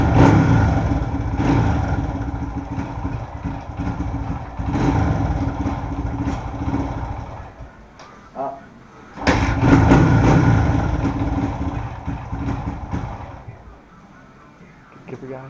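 A Honda engine starts from cold on half choke and settles into a steady idle that dips briefly and then picks back up, loud and close, with some talk mixed in.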